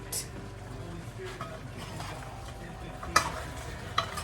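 Oxtail meat browns in a hot iron pot, with a faint sizzle under soft stirring and scraping, and a couple of sharper clinks of the utensil against the pot.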